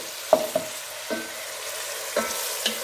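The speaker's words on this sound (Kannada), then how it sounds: "ಆನಿಯನ್ ಫ್ರೈ ಆಗ್ತಾ ಇದೆ" Onions fry in a pan for chicken biryani with a steady soft sizzle, punctuated by several sharp scrapes and knocks of stirring.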